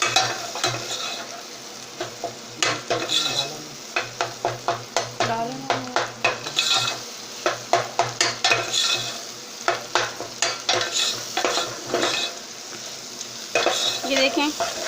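Rhythmic scraping and clinking of a spoon stirring eggs frying in spice masala in a pan, with sizzling underneath and steady repeated strokes up close.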